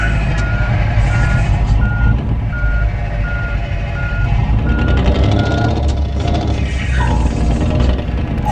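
A semi truck reverses with a trailer in the game Truckers of Europe 3, sounding a steady, evenly spaced series of loud reversing beeps over a low, continuous engine rumble.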